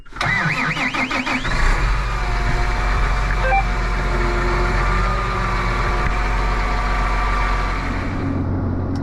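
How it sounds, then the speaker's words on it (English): A diesel tractor engine on an American farm cranks with a rough, sputtering start, then settles into a steady, loud idle rumble that continues to the end. "Tractor started, no problem."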